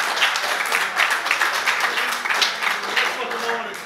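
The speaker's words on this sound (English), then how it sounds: "Round of applause." Audience at a retro rugby league evening clapping in a round of applause, a close, steady patter of many hands lasting a few seconds with faint voices underneath.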